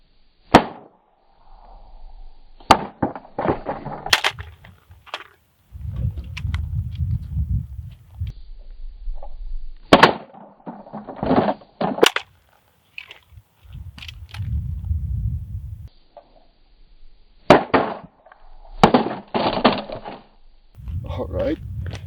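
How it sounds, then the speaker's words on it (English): A PSA AK103 rifle dropped repeatedly onto Ozark rocks, giving sharp separate impacts of metal and wood striking stone with short rattling thuds between, close and loud, with low rumbling handling noise in the gaps. "let's see what happens when you start dropping that rifle"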